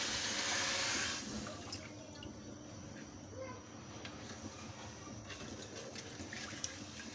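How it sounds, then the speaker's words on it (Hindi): Two litres of water poured into a pot for almond sharbat, with sugar already added; a steady, fairly close rush of pouring water that fades after the first second into a softer trickle and quiet background. "और ये 2 लीटर पानी।"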